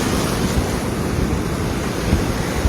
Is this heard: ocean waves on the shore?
yes